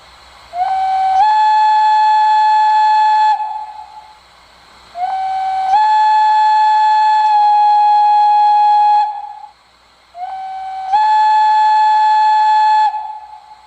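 An MTH Bavarian S 3/6 express model engine gives three loud, long, chime-like steam whistle blasts, each swelling in as it is quilled and then holding steady, separated by short silent gaps.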